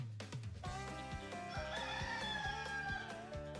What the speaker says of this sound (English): Ask to play WHBN, The Rooster.